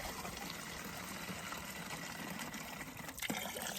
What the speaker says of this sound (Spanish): Esto lo voy a llenar en la fuente porque escucho, mira, aquí hay una fuente.